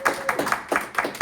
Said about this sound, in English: let's give Tommy John Schiavoni a round of applause